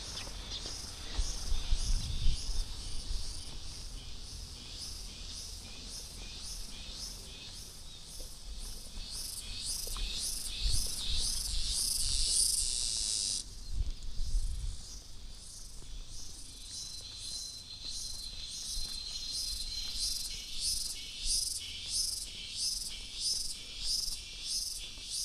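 Crickets chirp in pulsed trills at Sianok Canyon in Indonesia, a steady rhythmic chorus close by, with faint low rustling and occasional thumps beneath.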